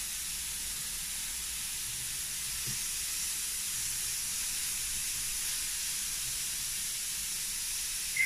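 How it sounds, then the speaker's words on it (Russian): Pineapple slices sizzle on a hot Weber Q 1200 grill, a steady, even hiss holding at moderate level throughout with no voices. "Мы их обжариваем где-то 3-4 минуты с каждой стороны"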